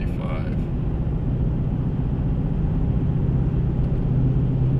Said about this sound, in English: Kick into 4-cylinder mode, you can hear my headers leak a little bit.